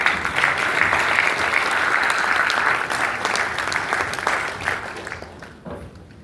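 Audience applause fills a hall with dense, steady clapping that holds strong for about five seconds, then thins and fades out near the end, with no talk over it.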